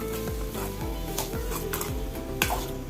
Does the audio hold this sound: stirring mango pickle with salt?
yes